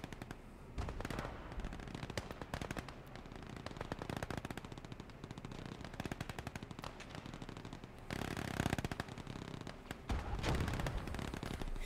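Submachine guns rattle in sustained automatic bursts during a Gates of Hell Ostfront battle, dense overlapping gunfire with louder close volleys and distant shots layered over constant combat din, no voices.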